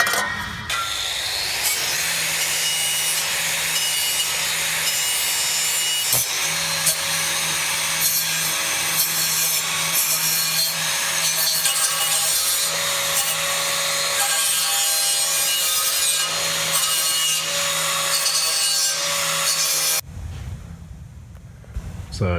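Continuous abrasive rubbing and scraping as surface rust is removed and car bumpers from a Cadillac are roughed up before respraying, loud and steady for about twenty seconds, then stopping abruptly.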